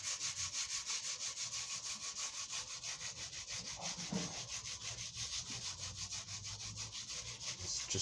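Bass guitar frets being sanded by hand with 120 grit sandpaper, close rhythmic scratchy rubbing strokes in a steady back-and-forth pattern, fairly quiet and alone.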